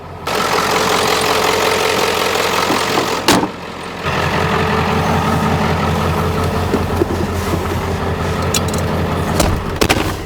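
A truck with a power fault that kept it below 2,000 RPM runs on a test drive, its engine droning steadily and loudly with a brief dip midway before settling back into a constant rumble.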